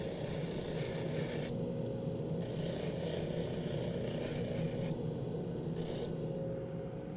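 Steady hand sanding of a wooden intarsia piece with 150-grit sandpaper, a continuous close rasping rub in long strokes with brief pauses between passes.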